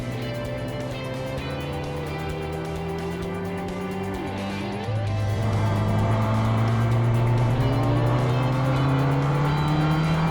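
Porsche 944 race cars in a Porsche 944 Challenge round at Phillip Island Grand Prix circuit, several engines droning at high revs, with one car's pitch climbing steadily as it accelerates close and loud.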